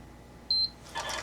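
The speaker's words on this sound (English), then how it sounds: "it will beep and turn itself off now" A Tin Lizzie quilting machine gives one short, clean, high-pitched electronic beep at moderate volume in a quiet room, followed by a brief soft rustle.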